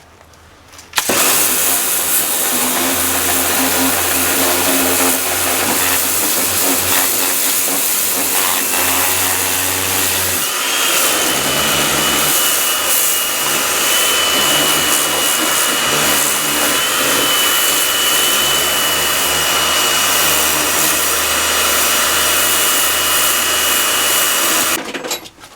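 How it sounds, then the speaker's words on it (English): Power washer spraying the front of a Talbot Express motorhome, a loud, continuous motor whine and hissing water jet running steadily for over twenty seconds with a brief shift midway, then cutting off. "So I'm going to power wash this."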